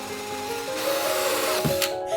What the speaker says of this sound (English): I had to use a Dremel with a cutting bit to widen it up a bit